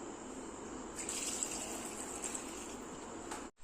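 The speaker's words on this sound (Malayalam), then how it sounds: "ഇനി ഇത് വേവാനുള്ള വെള്ളവും കൂടി നമുക്ക് ഒഴിച്ചു കൊടുക്കാം." Water poured into a pot of green peas for cooking, a faint steady splashing pour that runs for a few seconds and then cuts off.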